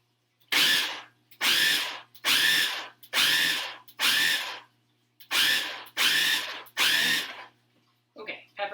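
Food processor pulsing fritter ingredients, eight short loud whirring bursts in quick, even succession, followed by a brief voice at the end.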